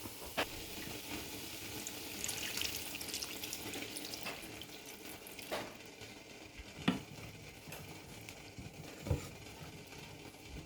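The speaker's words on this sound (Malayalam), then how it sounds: "ഇനി ഇതിലേക്ക് ചൂടുവെള്ളം ഒഴിച്ചു കൊടുക്കാം." Hot water is poured into a pan of Kottayam-style egg curry, a quiet, continuous watery pour with a few soft clinks and splashes.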